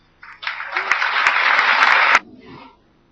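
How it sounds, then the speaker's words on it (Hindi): Audience applause following a political speech in India, a dense burst of clapping that swells quickly, holds steady for about two seconds, then cuts off sharply into quiet room murmur. "तो तालियां बज रही हैं,"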